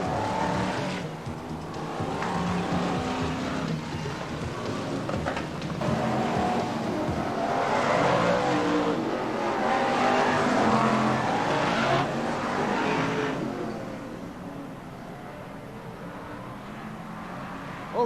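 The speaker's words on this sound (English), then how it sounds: "All the cars out safely negotiate the opening couple of bends, and away we go." BriSCA Formula 1 stock cars race around the Skegness track, a dense sustained roar of many engines rising and falling as the pack passes, with no pause.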